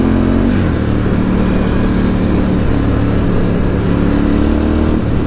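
A 2018 Ducati Scrambler 1100 Special motorcycle engine on its standard exhaust pipes, rumbling steadily and loud with a low throb and slight shifts in pitch as it cruises, heard close throughout without talk.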